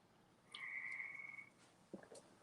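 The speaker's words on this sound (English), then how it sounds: "You hear the frogs." A single frog croaks outside an open door, a sustained faint trill for about a second, followed by a couple of quieter chirps and clicks against soft night background noise.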